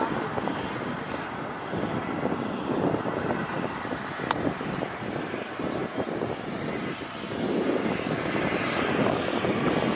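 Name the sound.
airliner departing from an airport runway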